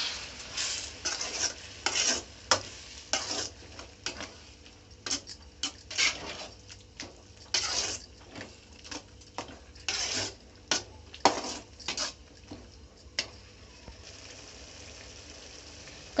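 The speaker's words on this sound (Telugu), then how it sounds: "ఒకసారి కలుపుకుందాం." A spoon stirs egg curry with tamarind water in a cooking pan, giving repeated close scraping and clattering strokes in an uneven rhythm over a low simmering hiss, with no talking.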